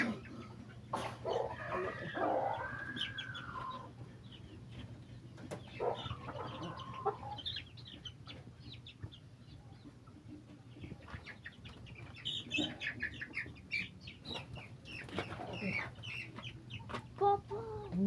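Chickens cluck in a backyard while their new coop is being built, with scattered, fairly close calls over a steady low hum and occasional faint background voices.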